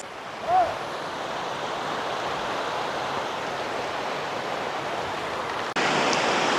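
Heavy rain falls beside a river under a willow tree, a steady, dense hiss of drops with a brief faint voice early on and a louder burst of rain near the end.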